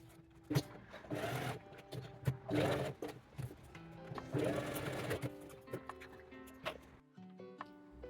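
A sewing machine stitches straps onto a fabric water bottle carrier in fast, close runs of rhythmic whirring with brief pauses and clicks between them, then stops near the end.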